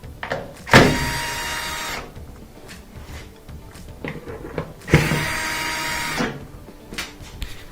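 A powered screwdriver whirs in two bursts, each lasting over a second, as it backs screws out of a washing machine's panel. A short pause with faint handling noise separates the bursts, and the sound is close and fairly loud.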